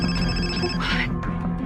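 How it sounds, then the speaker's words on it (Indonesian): A telephone ringing in a tense movie scene, electronic ringing tones with a steady repeated pattern over low background music, fairly close and clear. "tiba-tiba saja telepon berdering"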